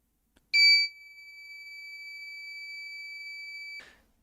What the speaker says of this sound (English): the buzzer will turn on like this one